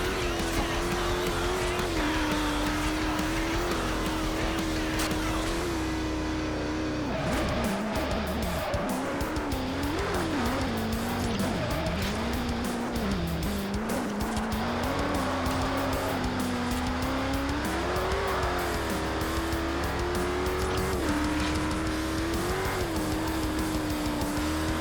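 A Koenigsegg races in the Forza Horizon video game, its engine droning loudly and continuously with shifting pitch, punctuated by repeated tire squeals and skids through corners, with no talking.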